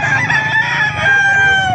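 A rooster crows loudly and close by at a chicken market, one long sustained cock-a-doodle-doo filling the whole moment with no talk.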